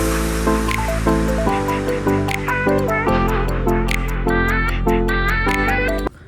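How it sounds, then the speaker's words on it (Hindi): Fresh mountain spring water pours into bottles near Nainital, a continuous close gurgling splash with rising bubbling tones as the bottles fill. "So we are going to fill this 2 bottles."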